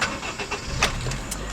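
A 2008 Honda Fit Sport's 1.5-liter four-cylinder VTEC engine cranks and catches, a short starter churn followed by a sharp flare into a running engine, heard close and clear with no talking.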